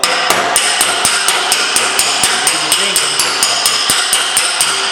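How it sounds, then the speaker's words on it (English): Steel hammer striking a dented car body panel backed by a metal dolly, a fast, steady series of sharp metallic blows, close and loud, about three hits per second with no talking. "I put my dolly behind this. I start hammering on dolly."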